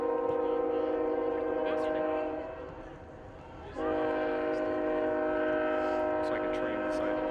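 A train passes near an outdoor evening girls' soccer game, sounding a long, loud horn blast that briefly breaks off and then resumes, with faint crowd voices under it.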